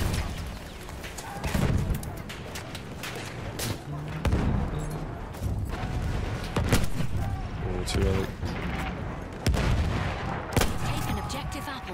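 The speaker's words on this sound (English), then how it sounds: "Oh, that grenade's gonna blow up." A grenade blows up in the Battlefield 1 game, its heavy blast landing among repeated booming bursts and rattling gunfire across a loud, busy battlefield.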